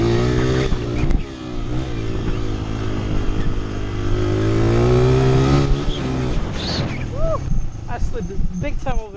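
A motorcycle engine runs at idle while warming up outdoors in woods, a steady loud rumble with occasional revs, with people talking over it throughout.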